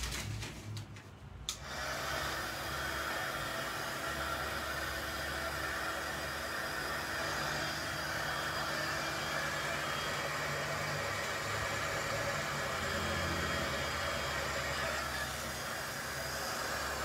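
Small handheld air blower pushing alcohol ink around on a card, a steady close hiss of rushing air lasting throughout with a low rumble beneath, starting after a brief pause and no voices.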